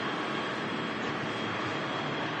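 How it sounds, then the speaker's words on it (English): An EasyJet jet airliner, in from Dalaman, rolls off the runway after landing, giving a steady broadband engine roar that holds even throughout. "there's the EasyJet about to vacate in front of us, in from Dalaman"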